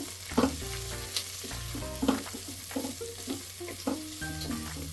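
Chopped onions frying in a pan with oil for a chicken fry piece biryani, a steady close sizzle with occasional stirring clinks and scrapes, no voices.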